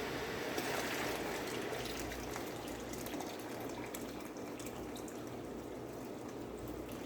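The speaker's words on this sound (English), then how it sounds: "get my water boiling to add to it" Very hot, near-boiling water pours steadily into a canning pot of tomatoes, a continuous close splashing and filling sound with no talking.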